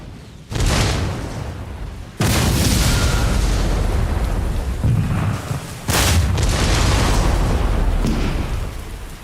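Cannon artillery fire from a battery of guns: heavy booming blasts rolling into a sustained loud roar, with sudden fresh detonations about two and six seconds in, no voices.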